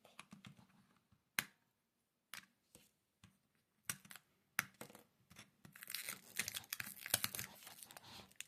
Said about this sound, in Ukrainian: Спочатку наклейку здерти.